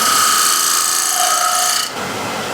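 A broad, hissing scrape of a tool cutting spinning wood on a lathe, turning down its diameter, steady and loud, then abruptly easing off near the end.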